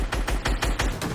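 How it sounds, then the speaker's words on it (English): An assault rifle fires in sustained full-auto bursts in Fortnite, loud rapid cracks repeating about every fifth of a second with no voices. "Simon says, I'm going to be holding down the trigger of my AR."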